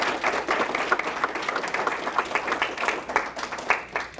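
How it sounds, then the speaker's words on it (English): Audience applause at a mentoring program's year-end celebration, lively sustained clapping from a sizable crowd in a room, loud and close with uneven bursts throughout. "And so I think they all deserve another round of applause today."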